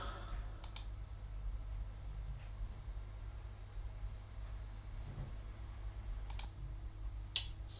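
A computer mouse clicks a few times during a MySQL installation, a handful of faint, sharp clicks spaced seconds apart over a low, steady background hum.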